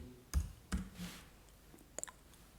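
Computer mouse clicks nearby at moderate level: a few separate sharp clicks spaced apart, then a quick pair near the end, with quiet room background between them and no talking.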